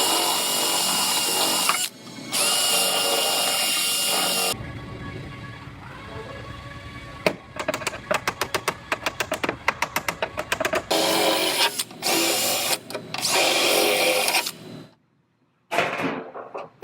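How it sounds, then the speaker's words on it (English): Power drill boring plug weld holes through scrap metal backer plates for a damaged car quarter panel, loud sustained whirring bursts alternating with rapid rattling pulses and brief pauses, close up with no talking. "I'm going to drill my holes for the plug welds and get these backer plates in place."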